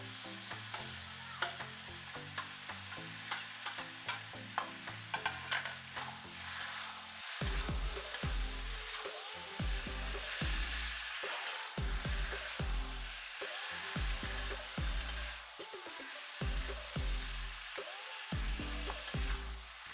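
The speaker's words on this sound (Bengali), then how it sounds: "টমেটো অ্যাড করার পর মশলার সঙ্গে টমেটোটাকে ভালো করে মিশিয়ে নিয়ে নাড়াচাড়া করা হলো।" Chopped tomatoes, green chillies and spices sizzle and fry in a pan as a utensil stirs them, giving a steady hiss broken by repeated scraping strokes, close up and with no talk.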